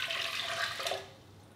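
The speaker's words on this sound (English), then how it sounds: "I'm going to start with 1 cup of water" Water pours briefly into a cup for muffin batter, a bright splashing stream close by that tapers off quickly at the end.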